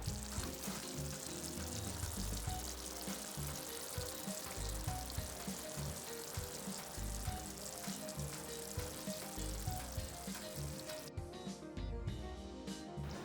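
Meatballs simmer in a rich tomato and herb sauce in a skillet over coals, giving a steady, loud bubbling sizzle that runs without a break the whole time, with no voices.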